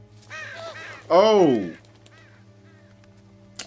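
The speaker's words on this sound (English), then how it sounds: "why are these crows just popping out of nowhere?" A single loud, harsh crow caw in The Walking Dead video game bursts out partway through, with a brief spoken exclamation before it and quiet game ambience around it.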